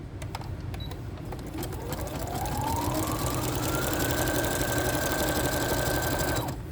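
Sewing machine stitching a simple zigzag stitch for a shabby chic journal, a steady close mechanical whir that climbs in pitch as it speeds up and holds fast until stopping abruptly.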